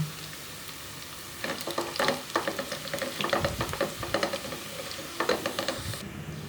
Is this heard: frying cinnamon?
yes